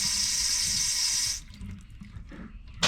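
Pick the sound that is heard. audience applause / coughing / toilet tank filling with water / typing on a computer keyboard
toilet tank filling with water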